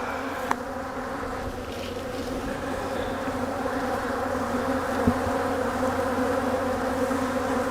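Honey bees swarm around an open spring brood box during a hive inspection, a dense, steady buzzing hum that fills the scene continuously at close range, with no voices.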